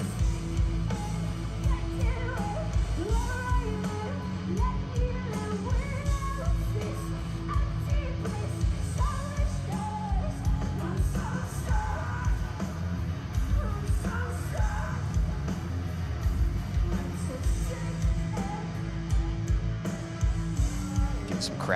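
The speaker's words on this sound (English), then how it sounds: "Some crowd singing." At a metalcore concert, a crowd sings along loudly over band music, with raised voices and yells blending into a dense, continuous wall of sound throughout.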